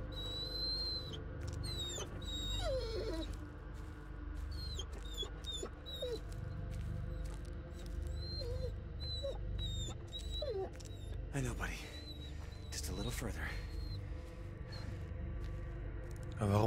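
An injured dog whimpers and yips in the Blair Witch video game, thin high whines recurring over a low rumbling ambient bed, with a voice talking at times.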